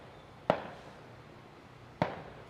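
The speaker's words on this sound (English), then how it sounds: "think there's someone doing fireworks" Fireworks going off outside sound as two sharp, distant pops about a second and a half apart, each leaving a short decaying tail over a quiet indoor background.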